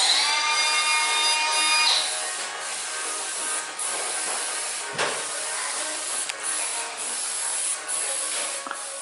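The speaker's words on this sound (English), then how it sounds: "I'm going to attempt to spray paint a little bit" Spray paint hisses from an aerosol can in a long steady burst, then continues in shorter broken sprays with small knocks and rattles between them, close and loud, with no talking.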